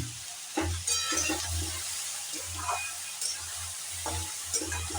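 Vegetables stirred with turmeric in a pan for a ridge gourd paturi: low, close sizzling under repeated spoon scrapes and soft clinks, in intermittent bursts with no talking.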